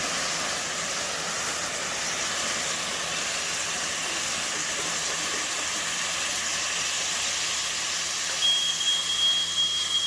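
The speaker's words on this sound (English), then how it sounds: "I'm going to deglaze this because you see it's real smoky." A hot, smoky pan used for searing burger patties is deglazed, giving a loud, steady rushing hiss of steam that fills the whole stretch without talk.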